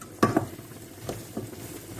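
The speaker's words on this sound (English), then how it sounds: "that's starting to sizzle" Vegetables sizzle and crackle softly in a frying pan, with a couple of louder stirring clatters and scrapes near the start.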